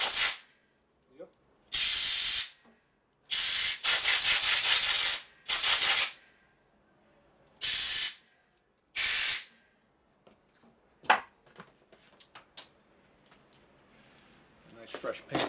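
Brake cleaner sprays in several loud, hissing bursts onto the painted engine of a 1947 Harley-Davidson EL Knucklehead, with pauses between them, followed by light clicks and handling noises in a workshop.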